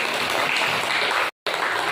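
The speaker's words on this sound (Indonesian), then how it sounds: "Tepuk tangan dulu untuk kelompok 3." A classroom of students claps for a group that presented a hydraulic excavator model, a dense burst of hand claps that cuts out abruptly for a moment before resuming.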